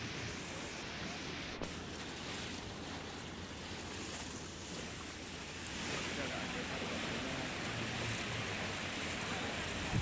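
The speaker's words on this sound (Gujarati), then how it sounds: "સાબરકાંઠાના વિજયનગરના વણજ હરડાવ ડેમમાંથી પાણી છોડવામાં આવ્યું છે" Floodwater rushing out of the Harnav dam at Vanaj, Vijaynagar, Sabarkantha, during monsoon rains: a steady, loud roar of churning water that swells slightly partway through, with wind buffeting the microphone.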